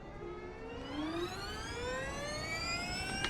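Electric motor of a Porsche Mission R race car in iRacing, a clean, rising whine with stacked tonal harmonics climbing steadily in pitch as the car accelerates, smooth and continuous with a faint hiss beneath.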